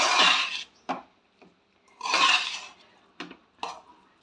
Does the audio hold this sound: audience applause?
no